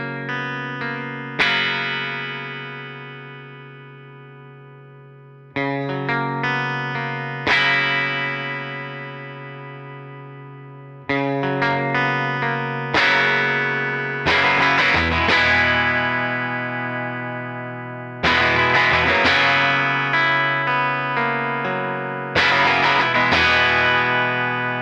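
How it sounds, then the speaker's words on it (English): A Telecaster plays through a Fender Princeton 65 Reverb amp as the mid control is swept up and back down. Loud strummed chords and single notes ring out one after another, each decaying under the reverb, with the tone gradually shifting. "we're going to sweep through the entire range, going from 0 on the mid control all the way up to 10, and then back to 0 using a Telecaster."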